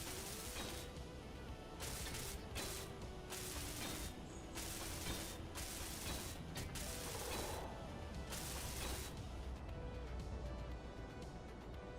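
Welding in the Space Engineers video game: a continuous, loud mechanical grinding and ratcheting clatter, broken by repeated bursts of harsh hissing noise, running steadily for the whole stretch.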